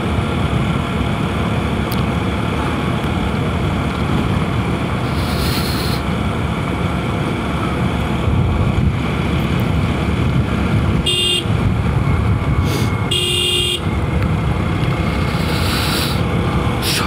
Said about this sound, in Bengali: যদিও এখন বাইক চালাইতেছি